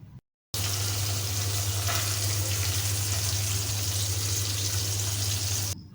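Onion paste fries in oil in a wok with ginger, garlic, cumin paste and chopped green chilli, a loud dense hiss that starts abruptly after a brief gap and runs steadily, no speech.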